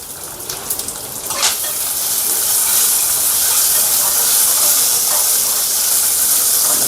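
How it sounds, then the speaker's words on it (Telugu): Green chillies, dried red chillies, curry leaves and tamarind fry in a small splash of oil, giving a loud, steady hiss that builds within the first seconds and then holds close and even. "కట్ చేసి పెట్టుకున్న నాలుగు పచ్చిమిర్చి అలాగే ఎండుమిర్చి అదేవిధంగా కరివేపాకు చింతపండు వేసుకొని వాటిని ఫ్రై చేసుకుందాం"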